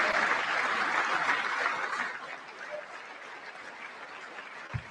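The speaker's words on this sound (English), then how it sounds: "Okay, let me clap." One person clapping their hands alone: a dense run of claps, louder for the first couple of seconds and then softer and sparser toward the end.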